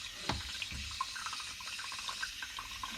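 Red-hot water runs steadily from a tap into a sink during plumbing remedial work, a close continuous splashing flow with a sharper knock near the start.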